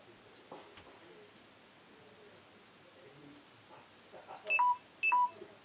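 A phone gives two short, bright beeps near the end, with a quiet rustling background before them and no voices.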